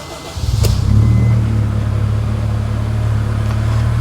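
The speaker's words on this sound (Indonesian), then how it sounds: "Saya akan nyalakan mesinnya." A 2004 Honda Stream 2.0 facelift MPV engine cranks briefly and catches, then settles into a steady, close, low idle hum that runs on alone.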